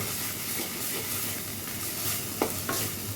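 Cashew paste being stirred into egg korma cooking in a pan, a steady soft sizzle with scraping stir strokes and a couple of sharper clicks of the spoon near the end.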